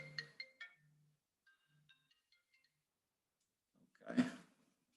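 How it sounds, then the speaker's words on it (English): A phone signals an incoming call with a short burst of bright electronic ringtone notes, followed by a few faint scattered tones, then near silence and a brief breathy noise close to the microphone. "I've got another phone call."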